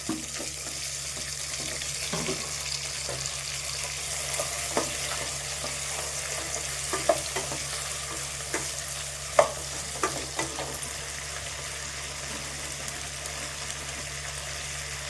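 Steady sizzling of tomatoes sautéing in a pan, with soft scraping and occasional light clicks of stirring, no voices.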